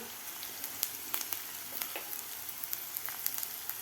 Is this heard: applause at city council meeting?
no